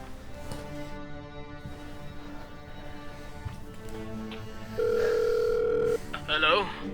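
A telephone call being placed indoors, a single steady ringback tone lasting about a second over background music and voices, followed by a short burst of higher tones.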